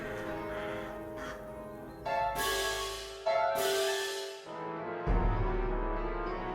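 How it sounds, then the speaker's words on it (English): Harsh, raspy cawing of rooks, several loud squawks in succession, some overlapping, with a brief pause between bursts. "Rooks flapped and jostled in the trees. War! War! War! They squawked."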